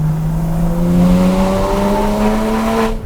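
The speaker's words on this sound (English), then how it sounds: "let's open the valves mid-acceleration." A Porsche GT3 accelerates hard with its exhaust valves open. The engine note climbs steadily in pitch as a loud, close, continuous roar that builds over a few seconds. No one speaks.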